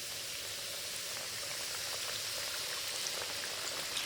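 Crappie fish fry in hot grease at about 350 degrees, a steady, dense sizzle and crackle that holds evenly at a moderate level throughout.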